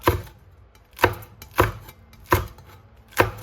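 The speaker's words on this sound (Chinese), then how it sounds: "再给它切成姜末，还有1个美人椒，改刀给它切成长条" Knife chopping ginger and a red chili pepper on a cutting board, five crisp, loud chops at an even, unhurried pace with quiet pauses between strokes.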